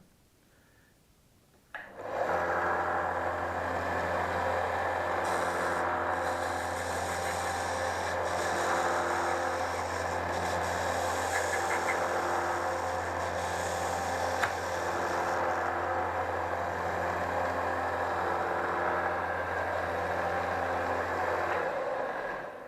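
A small belt grinder starts up and runs continuously while sharpening six-edged metal parts, giving a steady, close motor hum with a constant abrasive hiss for about twenty seconds before winding down.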